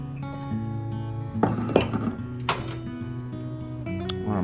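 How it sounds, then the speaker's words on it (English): A metal pan clanks onto a stovetop with a few sharp knocks and clinks, then softer scraping and a pour of oil, set against a faint steady hum in a home kitchen. "we're going to take a pan and we're going to put some oil in this to get it hot and heated"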